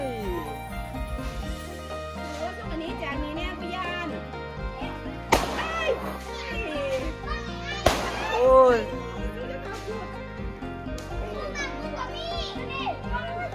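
Firecrackers go off during a Thai candle-lit temple procession, two sharp loud bangs standing out amid constant children's chatter and shouting.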